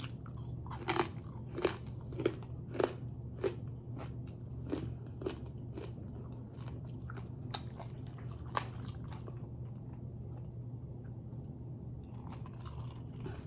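Crunchy pork chicharon being chewed close up, with a run of sharp crackling bites for about ten seconds over a steady low hum, then easing off into quieter chewing.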